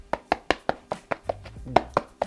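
Fingers tap a thick leather flap on a handmade wallet, producing about a dozen crisp, evenly spaced knocks close to the microphone, with a faint murmur in the background.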